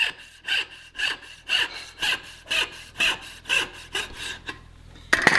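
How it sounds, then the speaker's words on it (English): Hand saw cutting a walnut board, with about a dozen steady rhythmic rasping strokes, close and clear, alone with no voices. "I'm going to make a cut. And I'm going to take it as deep as my saw will allow"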